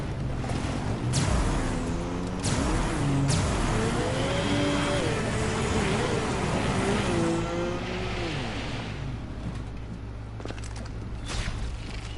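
A vehicle engine revs and accelerates with rising and falling harmonic whine, loud and steady for about twelve seconds in Borderlands 3, with game music and effects underneath.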